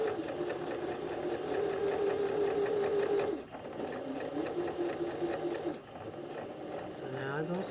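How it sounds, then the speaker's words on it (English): A sewing machine runs steadily, sewing a patch pocket close to the edge with green thread in a top-stitching style. The motor whirs continuously, dips briefly twice, then resumes, with a voice speaking over it. "I'm sewing in this green thread, it's almost like top stitching"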